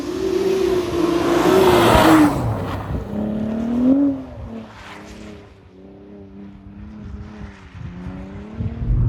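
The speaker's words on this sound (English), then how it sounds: "I like how the car sounds actually." An old winter beater car on worn spike tires drives along, its engine rising and revving, then dropping to a steady lower drone with small pitch shifts.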